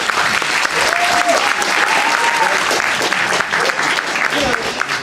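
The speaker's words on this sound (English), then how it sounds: "Can we give James a round of applause" A university lecture audience breaks into loud, sustained applause, with a few voices audible over the dense clapping.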